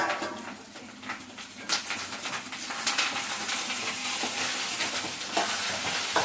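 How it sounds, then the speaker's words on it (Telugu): Fish curry frying and being stirred in a pan, a steady close sizzle with scraping strokes throughout, no one talking. "ఇది మంచిగా ఫ్రై చేసుకోవాలి"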